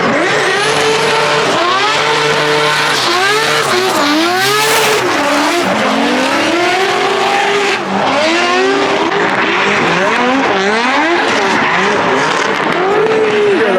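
Car doing burnouts at a 2-step battle meet, repeated high revving engine surges rising and falling with tire squeal and roaring exhaust, loud and sustained with crowd noise behind.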